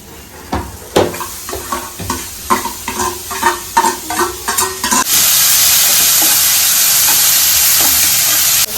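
Chopped beans, carrot and capsicum are stirred in a pan for noodles with a rhythmic series of scraping and clattering strokes, then a loud steady sizzle takes over as the vegetables fry.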